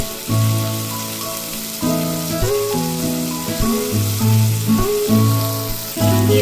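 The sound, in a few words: pumpkin pieces frying in oil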